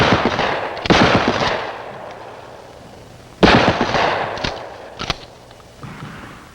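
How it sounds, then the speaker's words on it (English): Several loud, sharp shotgun blasts crack out one at a time with gaps between them, each followed by a short echoing decay, fired on an outdoor training range. "Offhand aimed fire is best suited to longer ranges."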